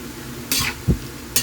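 Mixed vegetables blanched in a hot pan, giving a few short bursts of sizzling and stirring clatter, close and fairly quiet, with no one talking.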